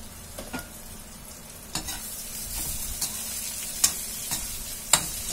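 Finely chopped onions with spices fry over low heat in a pan for raw mango curry, a soft constant sizzle broken by a few distinct scrapes and clinks of stirring, close and without talk.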